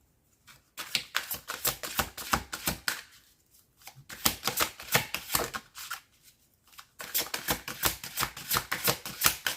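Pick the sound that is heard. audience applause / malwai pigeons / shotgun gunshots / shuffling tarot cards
shuffling tarot cards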